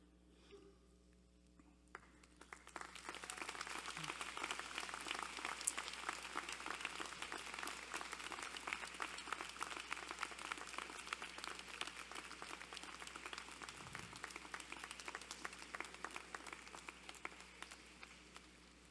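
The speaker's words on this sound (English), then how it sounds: "stand, turn around, and applaud all who have helped to get you to this point" Graduates at a University of Guelph convocation applaud, a broad sustained wash of clapping from a large seated crowd that starts after a quiet moment and holds steady, moderately distant, for the rest of the clip.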